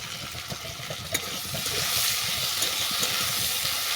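Vegetables are stir-fried with slit green chillies, coriander-cumin paste and ginger paste for a rui fish head and fennel greens ghonto, giving a steady, close sizzle that thickens partway through, with faint stirring scrapes.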